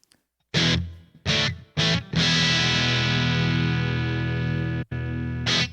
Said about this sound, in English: And this is a room reverb.